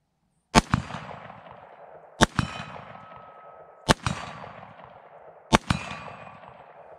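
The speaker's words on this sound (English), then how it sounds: "So let's do a little shooting." Four sharp rifle shots fired through a Riton X1 Primal 3-9x40 scope at about 100 yards, evenly spaced roughly every one and a half seconds, each a loud crack followed by a ringing echo tail.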